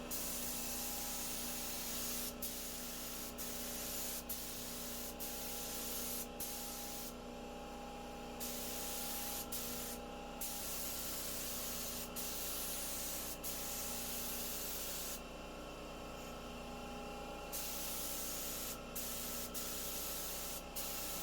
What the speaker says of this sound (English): Why I love spraying, because it's much quicker and there's no brush marks.